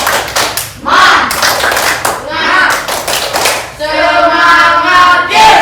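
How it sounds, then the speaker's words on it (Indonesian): A class does a rhythmic spirit clap, loud close hand claps in patterned bursts mixed with children's chanting voices, ending in a sustained shouted cheer. "Untuk menyemangati kita tepuk semangat dulu."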